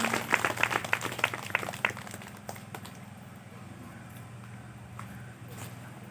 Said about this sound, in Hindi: ताली बजाओ ना पहले एक बार